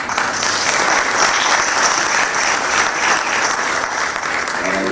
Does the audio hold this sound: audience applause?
yes